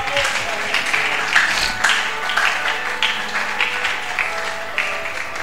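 A church congregation applauds and cheers during a sermon, with sustained clapping and raised voices mixed together at a fairly loud level throughout.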